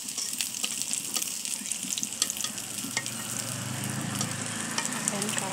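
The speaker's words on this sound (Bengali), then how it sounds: "অল্প অল্প তেল দিয়ে আমি ভেজে নিচ্ছি বড়াগুলো" Dried fish fritters shallow-frying in a little oil, giving a dense, continuous crackling sizzle with frequent tiny pops and occasional utensil scrapes, close and steady, no talking.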